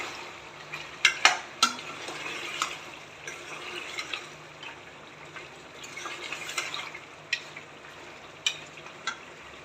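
Garlic sizzles softly in a hot pan while a utensil stirs, with scattered scrapes and sharp clinks against the metal.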